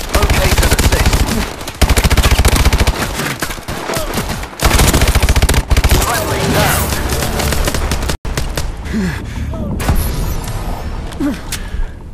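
Sustained automatic gunfire in the Call of Duty: Advanced Warfare Exo Survival mode, loud and continuous bursts with brief pauses, mixed with in-game combat effects and faint radio-style voice callouts.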